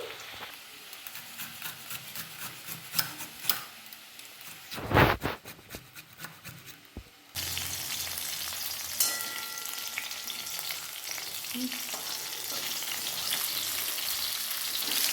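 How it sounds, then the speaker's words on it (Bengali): Steady oil sizzle of frying potatoes, with occasional stirring scrapes; the sizzle grows louder and denser partway through and continues without talk. "আলুটা ততক্ষণ ভাজা হোক"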